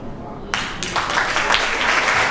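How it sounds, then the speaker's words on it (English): Audience applause breaks out at an annual healthcare forum, a dense burst of clapping that starts abruptly and carries on steadily, filling the room at moderate loudness. "I don't need any applause"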